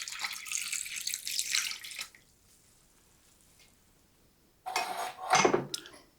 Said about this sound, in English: Then I'm going to add the 1 cup of beef broth.